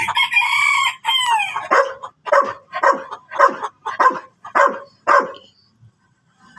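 A laying hen cackles loudly and close by, a run of about eight sharp, rhythmic squawks following a couple of drawn-out calls, then trailing off into quiet.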